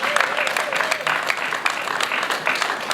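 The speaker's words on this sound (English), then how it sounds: "you can clap whenever you want to" An audience claps through a congressional presentation about Carver Stadium, a steady patter of many hands under a speaker reading out names.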